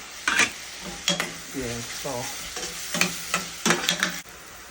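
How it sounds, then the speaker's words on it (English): Tomato and onion cook in a hot pan, sizzling steadily while a utensil stirs them in several separate scraping strokes, close and moderately loud, with a few brief voiced sounds between. "You're going to let this, cook until the onion is translucent. Shoot my tomato in."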